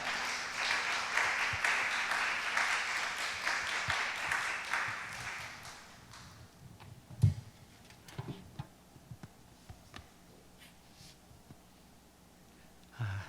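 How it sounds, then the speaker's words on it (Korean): A church youth service audience claps to welcome a missionary, a dense, moderately loud round of applause that fades after about six seconds into scattered faint claps and a few knocks in a quiet room. "우리 감사하다고 우리 박수로 다시 한번 격려하겠습니다"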